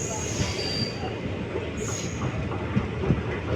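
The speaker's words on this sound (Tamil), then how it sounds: "2 நிமிஷம் நின்னோடனே வண்டி கிளம்பிடுச்சு" Passenger train pulling out of Karur junction: steady rumble of wheels on rails, with a high metallic wheel squeal early on and again near the middle, continuous and fairly close.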